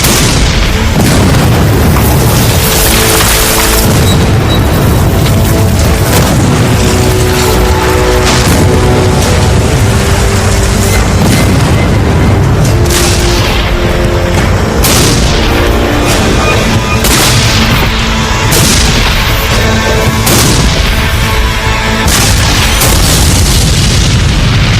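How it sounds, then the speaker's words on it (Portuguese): American Civil War artillery barrage from 1861, with heavy booms and bursts piling up in a loud, continuous, dense roar that goes on throughout with no gaps. "Era a maior barragem de artilharia da história do hemisfério ocidental."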